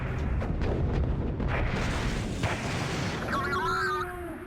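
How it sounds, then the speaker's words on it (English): Droid and human mortar teams firing in the Star Wars–themed WARNO battle game, a dense rumbling barrage of deep blasts and booms, loud and continuous, ending in a rising whine. "Got droid mortar teams versus like the human mortar teams here."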